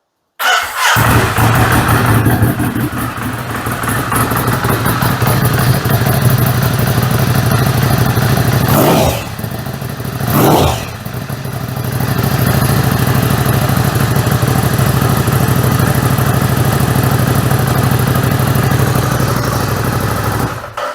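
A Ducati Scrambler Italia Independent motorcycle with an aftermarket muffler idles loudly and steadily, its crisp exhaust rumbling close by, with two brief revs or bumps in the middle.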